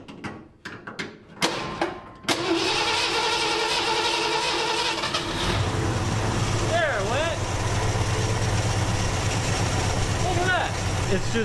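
A 1952 Ford engine cranks with a few sharp clanks, then catches and settles into a steady, rumbling idle that runs on its own. A voice is heard faintly behind it.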